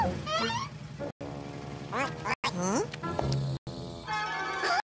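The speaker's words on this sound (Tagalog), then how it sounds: "Mag-ingat! May isang pato sa daan." A cartoonish duck quacks in quick, nasal bursts amid busy animated sound effects and voices, with short silent gaps between segments.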